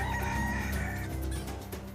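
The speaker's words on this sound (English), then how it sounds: "their garden bordered a neighbour's yard that was overrun with chickens" Chickens in a neighbour's backyard, a rooster crowing loudly up close while hens cluck around it, with no talk.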